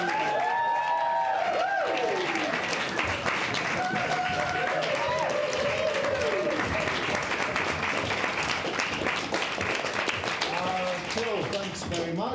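A theatre audience applauds and cheers steadily as improvisers are welcomed onto the stage for a comedy improv show in Glasgow, dense clapping sustained throughout with voices over it.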